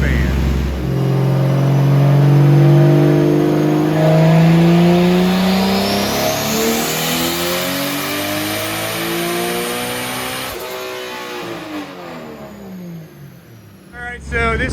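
A 2JZ-swapped Nissan 240SX with a BorgWarner turbocharger makes a dyno pull, its engine note rising steadily in pitch through a long, loud rev before cutting off sharply near the end; a voice speaks over it.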